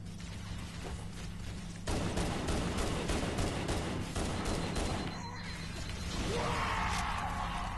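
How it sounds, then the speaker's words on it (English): Explosions and gunfire from the video game Halo Anniversary fill the clip as a dense, continuous barrage of blasts and shots, growing busier after the first couple of seconds, with a sweeping whoosh near the end. "It's explosions."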